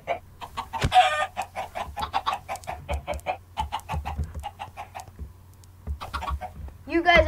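Chickens in Minecraft cluck in a steady run of short blocky calls, close and fairly loud over a low constant hum, with a brief pause near the end before a louder squawk.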